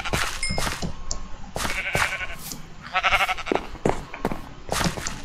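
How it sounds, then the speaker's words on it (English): Sheep bleating in the Minecraft video game, several short bleats at intervals mixed with other game sound effects and faint footsteps. "And then kill one more sheep."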